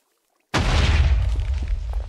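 A TNT cannon built in a block-building video game goes off: after half a second of silence, one loud, booming blast that rumbles and slowly fades with faint crackling debris.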